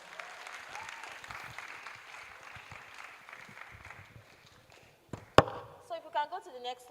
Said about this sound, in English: Please, can you give her a round of applause?